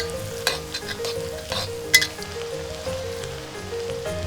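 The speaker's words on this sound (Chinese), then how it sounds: "然后起锅倒色拉油，烧热后加入蒜米、辣椒面，迅速翻炒出香。" Garlic and chili powder stir-fried in hot salad oil in a wok, a soft steady sizzle broken by a few sharp clinks and scrapes of the spatula.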